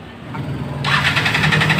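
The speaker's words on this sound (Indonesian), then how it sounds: "Untuk pembuktian motor akan saya hidupkan terlebih dahulu." A Yamaha RX King motorcycle's electric starter cranks steadily without the engine catching, a continuous whirring drone that swells louder partway through and runs on alone, close by.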